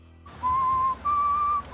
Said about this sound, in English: What were you whistling?